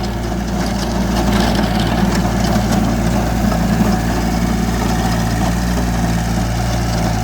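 A VST Sakthi 225 tractor engine runs at a steady idle, a close, constant throbbing drone with a low mechanical hum and no talk over it.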